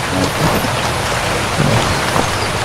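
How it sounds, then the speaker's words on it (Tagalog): Heavy nonstop rain pours steadily through an overnight downpour, a dense, loud hiss with no pauses, with faint low rumbles like distant thunder beneath it. "Grabe, walang tigil ng ulan."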